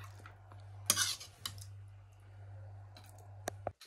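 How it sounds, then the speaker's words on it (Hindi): Dishes and utensils clinking as dinner is served at home, a few sharp scattered clicks and clatters over a low steady hum, quiet and close, with no talk. "चलो बर्तन में परोसते हैं और खाते हैं आराम से।"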